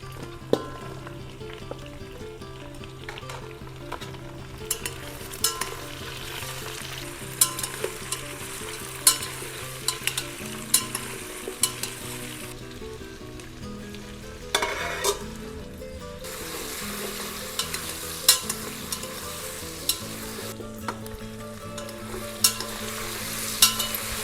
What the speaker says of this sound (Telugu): ఇవన్నీ కూడా మంచిగా ఎర్రగా మగ్గిన దాకా నూనెలో దిప్పుకోవచ్చు